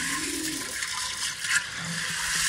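Steady hissing spray of water escaping from a burst hose pipe outdoors, continuous and fairly loud, with a brief splash midway.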